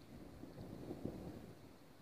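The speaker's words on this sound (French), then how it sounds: "le tonnerre c'est non-stop" Distant thunder rumbles low and continuous during a weak thunderstorm at Lœuilly, France, with wind and faint rain noise over the microphone and no talk.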